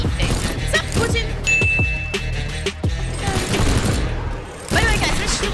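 Rapid gunfire from the destruction game Teardown, a busy run of sharp cracks and impacts layered with crashing debris and game effects, with someone talking excitedly over it.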